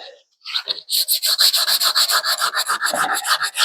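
Hand sanding on the body of a 1966 Ford Mustang, a close, loud run of rhythmic rasping strokes in quick succession, each scrape rising and falling, with no talk.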